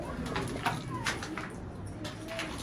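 A pigeon coos softly a few times amid steady outdoor background noise, with faint bird calls mixed in.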